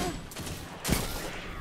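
Quitclaim Shotgun III firing in the Destiny 2 video game: a single sharp, punchy shotgun blast near the middle of a short stretch of quiet game ambience.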